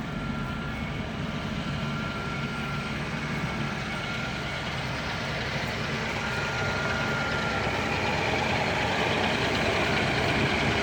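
A 1988 Jaguar XJS with a V12 engine and dual exhaust idles quietly, a smooth, even, continuous hum heard from nearby without any revving or talk.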